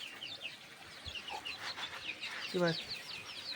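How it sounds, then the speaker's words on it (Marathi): Several desi (country-breed) hens cluck and chatter close by on a poultry farm, with soft chirps of chicks mixed in, over a low background murmur. "तुम्ही पिल्लं बघू शकता किती भारी आहे गावठी कोंबडी एकदम"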